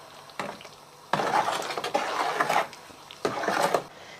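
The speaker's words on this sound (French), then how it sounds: "on remue et on laisse cuire notre confiture" A spoon stirring apricot and kirsch jam in a pot over high heat, giving a few scraping, sloshing strokes in separate bursts, close and moderately loud.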